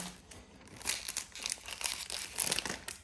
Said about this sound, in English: We try to not tear the cellophane.